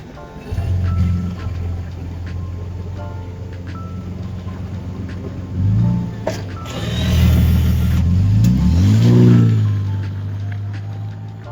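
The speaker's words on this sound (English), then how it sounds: "Tanabe Medallion Touring 2023 and up Sequoia, full catback system" A 2023 Toyota Sequoia with a Tanabe Medallion Touring catback exhaust rumbles at a steady low idle, then revs rise and fall twice, the second a longer swelling blip, loud and close.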